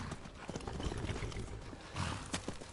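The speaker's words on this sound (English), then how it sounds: "And that beautiful horse." Horse hooves clip-clop steadily in the Skyrim video game on PS5, a quick rhythmic trot heard up close over faint outdoor ambience.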